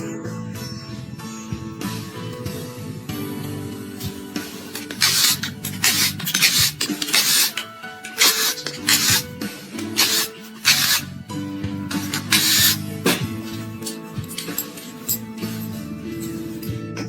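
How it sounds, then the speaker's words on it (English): An oil pump with a nylon gear being removed from a 150cc engine, heard as close scraping, rubbing and rasping metal handling noises in irregular bursts, with no talking. "Now I'm removing the oil pump."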